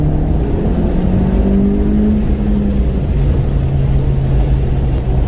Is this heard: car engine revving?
yes